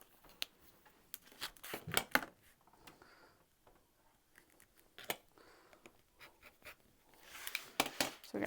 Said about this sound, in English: And then I'll cut that in half.